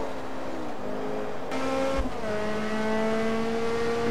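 Race car engine in the Forza 2 video game on the Mugello circuit, a continuous high-pitched whine held near the limit, with a brief dip and shift in pitch midway and no talk.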